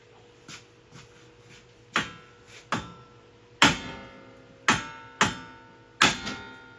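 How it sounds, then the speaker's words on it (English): Sharp metallic hammer strikes on an RMAX front differential ring out, about ten in all, some light taps and several hard smacks, each with a brief ringing decay, in a quiet room. "now we're going to come in with our hammer and just give it a smack."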